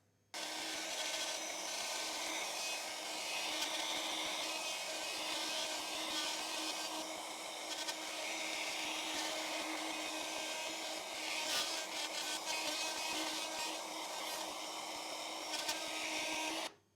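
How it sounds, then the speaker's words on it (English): A router cuts into a wooden guitar body, giving a steady high-pitched whine with scraping, rasping texture that holds throughout at moderate distance. "Let's get the router on and we'll route this first piece out."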